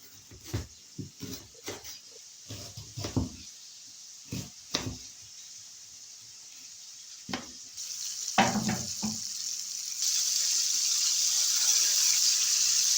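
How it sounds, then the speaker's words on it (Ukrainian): Pork liver frying in a pan, soft sizzling crackles with intermittent louder pops and stirring clatters in the first half, then a steadier hiss that swells toward the end. "Поки наша печінка смажиться з однієї сторони"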